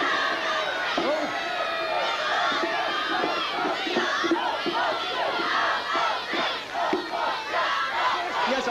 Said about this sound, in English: Do I have a cheer for Great Yarmouth?